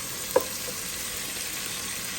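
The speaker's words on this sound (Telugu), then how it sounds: "నేను కొంచెం ఆయిల్ వేసుకొని ఆనియన్స్, కరివేపాకు, కొంచెం బిర్యానీ ఆకు వేసి బాగా ఫ్రై చేశాను" Onions fry in oil with curry leaves and a bay leaf for coconut rice, a soft, steady sizzle heard close with one small click early on and no talking.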